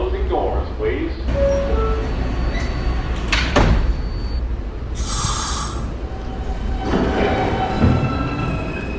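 Subway train doors slide shut on an orange M train of the 5th Ave lines, amid steady station and car rumble, with a short hissing burst and announcements spoken over the noise.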